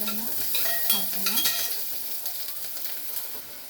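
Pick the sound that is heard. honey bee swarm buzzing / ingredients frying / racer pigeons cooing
ingredients frying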